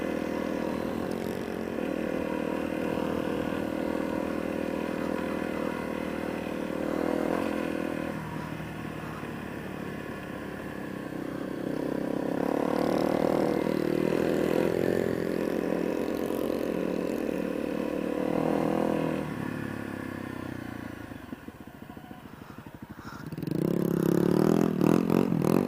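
A small Honda Grom motorcycle rides along off-road trails, its engine droning steadily close by with rising revs, rattles and scrapes, and a louder surge of throttle near the end.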